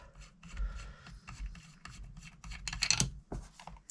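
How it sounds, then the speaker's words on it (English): Small scraping and grinding turns as the threaded end cap of a Crosman 2240-series air pistol is unscrewed, a close series of short rasping twists with brief pauses between them. "we're just going to unscrew the end cap so it can't be any pressure in there"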